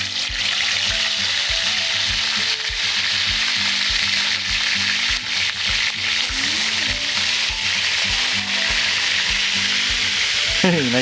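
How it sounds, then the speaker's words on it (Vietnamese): Marinated rat meat fries with garlic in a pan, giving a loud, constant sizzle with crackling spatters and a little stirring. "Rồi mình sẽ cho thịt chuột đã ướp vô chiên cho nó thơm lên."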